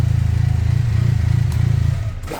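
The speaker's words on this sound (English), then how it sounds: "Let me know what y'all think that exhaust sound like." Exhaust of a Can-Am Spyder F3 three-wheeled motorcycle, loud and close, a deep throbbing idle that swells into a couple of revs before cutting off abruptly, with no voices.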